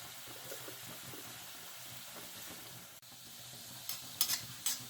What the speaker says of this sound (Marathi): आता आपण त्या तेलामध्ये एक एक गोळा सोडूया गुलाबजामचा